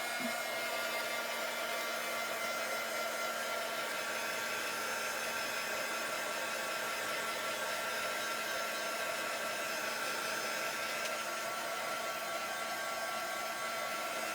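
A hair dryer blows steadily and close by, drying a tulip shelf-sitter craft piece; a continuous whoosh runs unbroken from start to finish with no talk.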